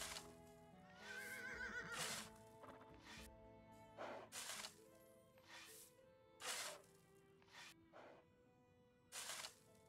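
A horse neighs loudly near the start, followed by several short bursts of hoof clatter and thuds at irregular intervals, in the video game Life is Feudal: Your Own.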